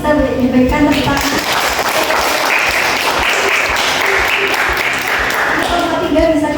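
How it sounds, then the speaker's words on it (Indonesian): Classroom applause for a student group after their presentation, a steady patter of many hands clapping through the whole stretch with voices talking over it. "untuk kelompok 3 bagus sekali presentasinya, bisa diberikan tepuk tangan."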